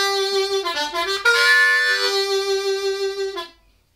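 A harmonica plays a short bluesy phrase in second position with bent, wailing notes, close and clear, ending abruptly after a few seconds.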